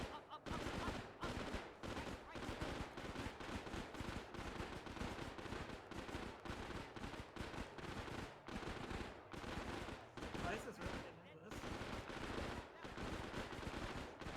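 Sustained MG42 machine gun fire in a wartime setting, heard as rapid, continuous bursts of sharp shots at moderate distance, broken by a few brief pauses, with a voice faintly present.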